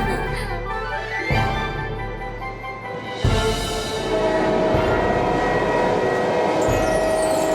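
A cartoon flying train rushes past with a loud, continuous rumble and a whooshing roar. Bright sustained whistle-like tones sit on top, rising in intensity partway through, over a busy amusement-park soundtrack.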